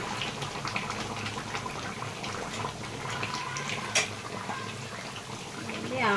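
Kadai chicken curry bubbles at a steady rolling boil in a pot, a dense, continuous wet burble with a brief sharper pop near the end, heard close up.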